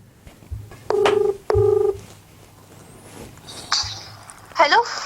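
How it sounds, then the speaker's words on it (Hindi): A phone call is being placed: two steady sustained tones sound in succession, followed by softer electronic beeps and a brief chirp, near and clear with little else around. "तो सबसे पहले हम शिवानी जी को फ़ोन करते हैं"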